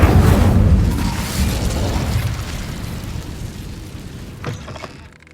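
A fiery Incendio spell from Hogwarts Legacy erupts in a loud, roaring burst that slowly fades, with a smaller flare near the end, and no talking.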